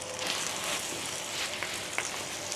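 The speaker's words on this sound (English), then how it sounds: "She's a sizzling." Steady crackling sizzle of food frying in a pan, continuous and close, with occasional louder pops.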